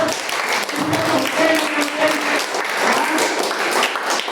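A church congregation claps together to thank God, a loud, continuous round of applause that fills the room with no talk over it.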